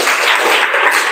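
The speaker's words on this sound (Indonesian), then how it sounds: "Oke, tepuk tangan untuk kelompok 3." A classroom group claps for a presenting group of students, a dense burst of hand-clapping heard up close and fairly loud for about a second.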